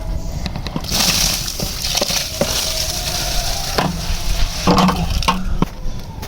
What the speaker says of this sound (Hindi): अब इसके अंदर हम चावल ऐड करते हैं।